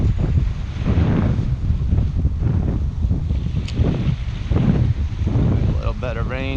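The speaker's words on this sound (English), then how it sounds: "the wind is a little tricky" Gusty wind buffets the microphone at the shore during a fall fishing outing, a loud rumbling roar that rises and falls in bursts, with people speaking faintly underneath.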